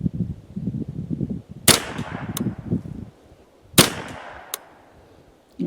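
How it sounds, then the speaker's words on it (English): Custom Ruger 10/22 rifle with Kidd barrel shooting outdoors, two sharp close cracks a couple of seconds apart with brief ringing after each, over gusty wind rumble. "So let's shoot our first 5-round group."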